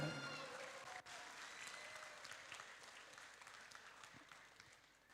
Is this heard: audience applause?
yes